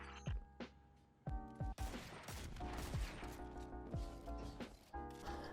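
A few sharp weapon shots aimed at a power cell in Destiny 2 ring out as separate cracks, the later ones louder and partly blurred into a longer crash, over a quiet tonal game soundtrack.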